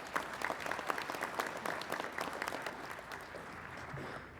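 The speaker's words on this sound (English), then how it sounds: "And just a round of applause." A council meeting audience claps in a moderate burst of scattered hand claps that thins and fades toward the end, heard fairly close without speech.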